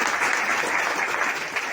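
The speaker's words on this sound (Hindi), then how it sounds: "जोरदार तालियां।" Dense, steady applause from a large crowd, loud and continuous throughout with no pauses or voices.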